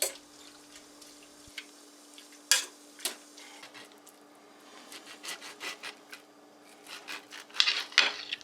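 Stirring sauerkraut with water, salt and pepper in cooking pots, heard as soft scraping, rubbing and light wet clatter in irregular strokes, close and quiet, with a few sharper knocks against the pot.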